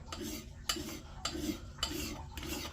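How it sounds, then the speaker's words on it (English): Single-cut file draw-filed along the edge of a Fiskars X27 splitting axe, about five rhythmic rasping strokes, close and clear with no talking. "Now we're going single cut, draw filing."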